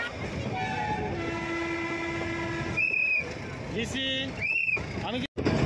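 Nilgiri toy train on the Ooty to Coonoor line, a steady rolling rumble of the carriages with a long horn blast mid-way and a few shorter whistle-like tones, close and continuous, with people talking over it.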